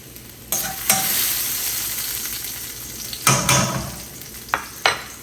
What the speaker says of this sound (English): Get the garlic cooking.